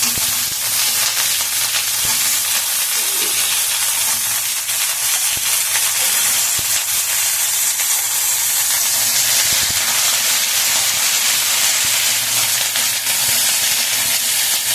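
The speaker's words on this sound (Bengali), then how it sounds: "একটু ঝিঙেটাকে ভালো করে একটু নাড়াচাড়া করে একটু ভেজে নেব।" Sliced ridge gourd fries in a hot pan with a loud, constant sizzle and steamy hiss that runs unbroken for about fifteen seconds, with faint stirring and scraping underneath and no voices.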